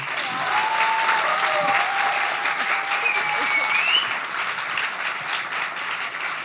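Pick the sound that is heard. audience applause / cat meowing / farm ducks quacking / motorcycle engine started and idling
audience applause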